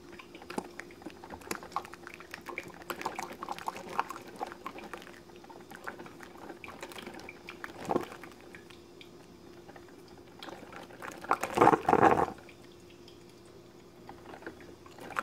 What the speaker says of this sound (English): today I'm brewing just straight on a pot of Folgers natural chocolate